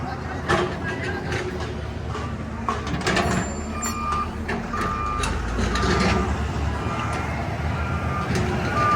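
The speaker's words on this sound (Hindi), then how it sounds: "रोड बराबर कर रही है ये गाड़ी।" A JCB levelling a road sounds its reversing alarm in steady repeated high beeps over a loud diesel engine rumble, outdoors among chattering voices at a busy site.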